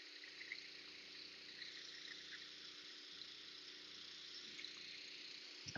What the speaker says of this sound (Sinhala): වතුර පම්ප් කරනවා.